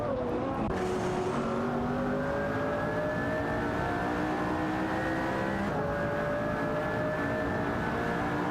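Racing video game cars, a Pagani Zonda and a Ferrari 812 Superfast, drone steadily at high revs with layered engine whines that rise gradually in pitch. The sound is continuous and fairly loud, with no speech.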